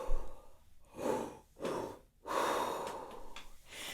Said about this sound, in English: Now we're going to take that same low breath and add a middle breath on top of it, then exhale right away.